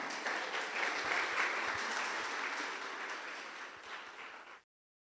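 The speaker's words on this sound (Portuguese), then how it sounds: "Você pode aplaudir Jesus por isso?" A church congregation claps for Jesus in a dense, sustained round of applause that swells slightly and then cuts off abruptly, many hands together, with no speech on top.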